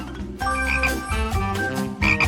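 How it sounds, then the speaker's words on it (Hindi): A frog croaks in several loud, throaty, slightly tonal calls in quick succession, close and alone, with no voices around it. "और मेरा मेंढक भी ठीक है।"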